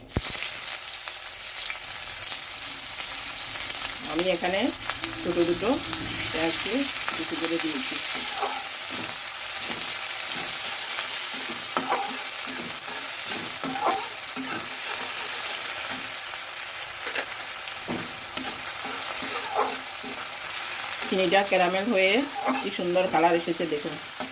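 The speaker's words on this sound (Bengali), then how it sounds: "এবার দিয়ে দিচ্ছি পেঁয়াজ" Onions frying in oil with a little sugar, a steady close sizzle with occasional stirring scrapes, and brief bursts of a voice talking over it.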